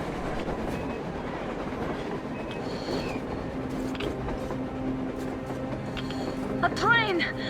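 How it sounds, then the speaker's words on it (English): An approaching train in the Metro Exodus video game, a low steady rumble with rhythmic clacking that builds gradually, heard under tense voices talking. "A train! A damn train on the surface!"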